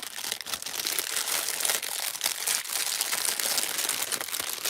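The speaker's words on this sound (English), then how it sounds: "Sorry about that crinkling." Plastic packaging for sewing supplies crinkles steadily and close by for several seconds, with dense crackling and no voices.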